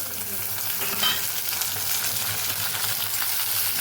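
Potatoes tempered in hot oil, a continuous dense crackling sizzle heard up close, steady throughout with no voices.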